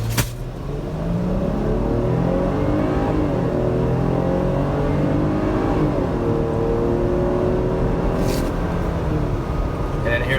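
A 2019 Jeep Grand Cherokee accelerating hard during a performance test, its engine droning loudly and steadily with rising and falling tones through the gear changes, heard from inside the cabin.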